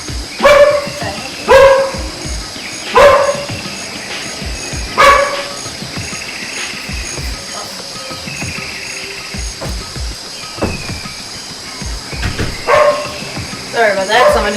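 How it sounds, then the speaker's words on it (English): Dog barking indoors in a house, loud, sharp barks repeating in irregular bursts near the start and again toward the end, with quieter stretches between. "So that's probably why you heard him barking."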